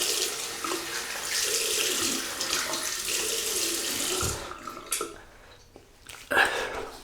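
Tap water runs steadily over a 1966 Gillette Flare Tip SuperSpeed safety razor during a rinse at a sink, a continuous hiss for about four seconds that then breaks into a few short splashes and drips.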